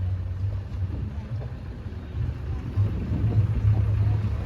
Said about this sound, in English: The Massey Ferguson 35X, 3-cylinder diesel.